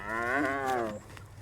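Outdoors on a farm, a single cow gives one loud, drawn-out moo that trails off after about a second, leaving quiet background.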